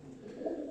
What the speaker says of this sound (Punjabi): ਤੇ ਆ ਬਾਈ ਦੇ ਵੱਡੇ ਕਬੂਤਰ ਆ